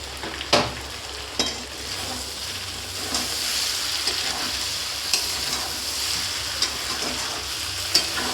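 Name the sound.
jackfruit being sautéed with ground spices in a pan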